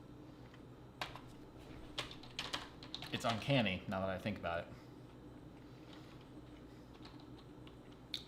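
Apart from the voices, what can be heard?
typing on a computer keyboard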